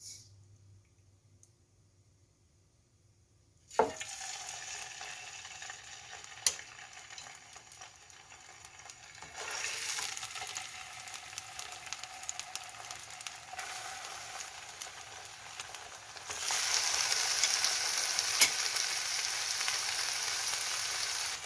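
After a quiet start, a sharp clatter gives way to steady sizzling of chicken frying in oil in a hot pan, growing louder in stages, with occasional small pops and clicks.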